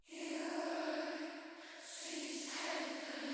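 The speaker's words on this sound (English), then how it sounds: "So now we've got that cool whispery effect" A duplicated vocal line processed through a breathy, whispery vocoder effect with added depth, sustained and airy with a hiss-laden top end, dipping briefly mid-phrase before swelling back.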